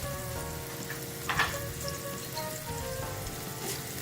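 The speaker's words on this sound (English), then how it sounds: "In this pot, I'm going to go ahead and add some leeks" Leeks and shallots sizzle and fry steadily as they go into a hot pot, a continuous crackling hiss with a brief louder burst of spitting as more is added, no talking.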